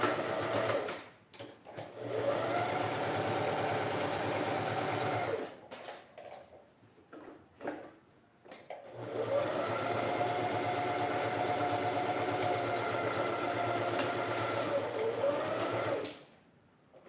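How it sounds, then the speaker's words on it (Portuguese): A sewing machine runs steady stitching passes along a fabric lining seam, two sustained bursts of whirring with a short pause between them, close and fairly quiet. "agora é só passar a costura novamente"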